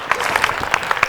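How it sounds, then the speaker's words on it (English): An audience claps at a business keynote on asset management, a brief burst of dense, overlapping hand claps from a crowd, fairly close and steady with no talk over it. "Give Kwatuguza a round of applause."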